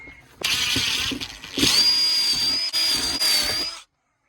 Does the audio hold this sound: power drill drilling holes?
yes